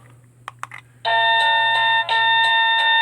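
A Toplus wireless doorbell chime kit plays a bright electronic melody, loud and close, after a few short taps and clicks, with notes repeating in a steady pattern and a low hum underneath at first.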